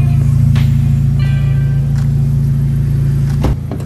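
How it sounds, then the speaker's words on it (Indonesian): A Mazda 2 Skyactiv engine idles under an open hood, a steady, loud, close rumble with an even low hum throughout that drops slightly in level near the end. "Nah, ini dia mesinnya. Sekarang ini lagi idle ya."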